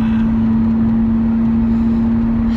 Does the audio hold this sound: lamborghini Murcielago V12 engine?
yes